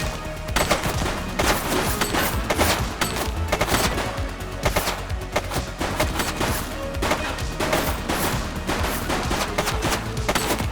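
Dense, continuous gunfire fills a police shootout in the video game The Precinct, with rapid bursts and overlapping shots that stay loud and unbroken throughout.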